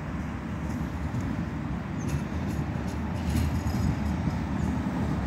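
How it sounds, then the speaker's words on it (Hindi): A tram rolls along a city street with buses and traffic about, its loud steady rumble and rail noise filling the whole stretch and swelling slightly toward the end, with no talk. "अभी देखते हैं इधर से कुछ ट्राम भी आ रही है"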